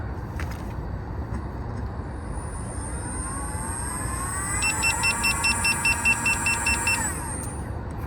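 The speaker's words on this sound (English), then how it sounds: "All right, spin test." A Begode T4 electric unicycle motor spins up freely in a test, a rising high-pitched electric whine that climbs steadily, then a pulsing beeping alarm as it hits top speed, over faint outdoor background.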